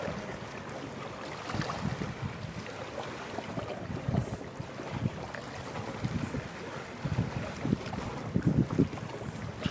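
Soft water noises lap and trickle in an outdoor setting, a continuous gentle wash with small splashes and a light wind rumble throughout, fairly faint and steady.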